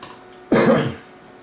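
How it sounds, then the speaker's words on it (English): A single throaty cough with throat clearing from a man, close to the microphone and brief, rising abruptly out of a quiet background. "Excuse my cough, by the way."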